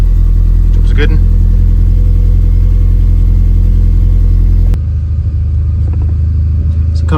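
A 2005 R53 Mini Cooper S engine idling up close, a steady loud low rumble that continues after a sharp clunk partway through, with a brief clatter early on and no speech.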